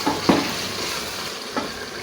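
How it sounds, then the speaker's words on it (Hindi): Spices for beef karahi roast in hot oil, giving a soft steady sizzle with a couple of brief stirring scrapes and clatters near the start and one more toward the end. "यहाँ पे इसकी भुनाई कर लेंगे ताकि ये सब मसाले मिक्स हो जाए।"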